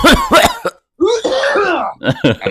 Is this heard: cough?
yes